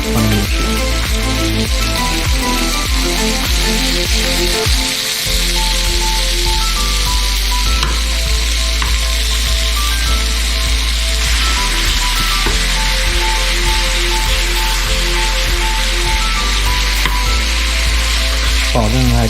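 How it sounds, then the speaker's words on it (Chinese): Fresh sage leaves sizzle and fry in melted butter in a pan, a loud, continuous crackling hiss throughout, with background music over it. "等黄油化了，我们把我们的 sage 鼠尾草放进去"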